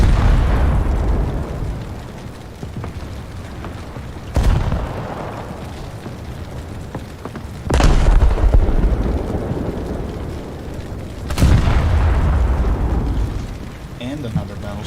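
Shells and explosions striking a battleship in War Thunder: three sharp, loud blasts spaced a few seconds apart, each with a rumbling decay, over a steady background of naval combat noise.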